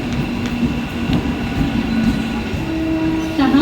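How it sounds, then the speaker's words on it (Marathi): A Mumbai local train rumbles and clatters along the platform at Diva junction at night, a loud, continuous rolling drone with faint tonal hums over it. "प्लॅटफॉर्म क्रमांक 2 पर आई हुई लोकल 7:08 की मुंबई छत्रपति शिवाजी महाराज टर्मिनस जाने वाली ही लोकल है"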